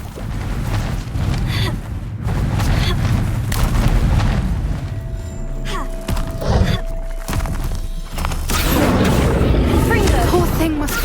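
A Confringo explosive spell in Hogwarts Legacy bursts with deep booming blasts and rumbling impacts over a loud game soundscape, while a voice speaks at times.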